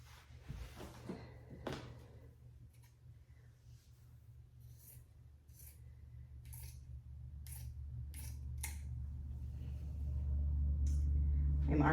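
Scissors cut through pieces of fabric one at a time for a Christmas tree cake pillow, with a series of short, crisp snips spaced through the clip over a low background hum.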